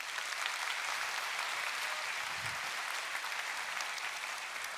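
Lecture hall audience at a public natural science lecture applauding the speaker, a dense, steady wash of many hands clapping at once for the whole stretch, with no talk over it.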